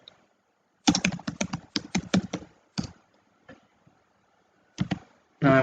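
Keys are tapped on a computer keyboard in a quick burst of crisp clicks, a pause, a few isolated taps, then another short flurry, close and clear in a quiet room.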